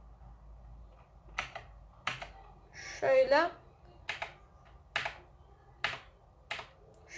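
Individual keys are pressed one at a time on a Razer BlackWidow keyboard, producing sharp, evenly spaced clicks with a brief rattling flurry in the middle, alongside a short spoken word.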